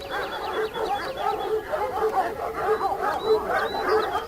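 Kangal dogs barking in a series of short, repeated barks at a moderate distance, spaced in a loose rhythm over a faint background.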